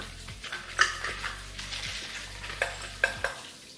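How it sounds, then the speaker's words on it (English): Plantain fries in a pan with a low, steady sizzle. A utensil stirs it and clinks against the pan several times, up close and with no talking. "So now we have to fry it."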